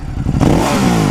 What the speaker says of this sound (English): There's the exhaust, and then there's the engine. That's the exhaust.